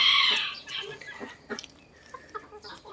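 Bantam chickens make a few short clucks and squawks, fairly close but soft, with a brief sharp cry at the start and scattered quieter calls after.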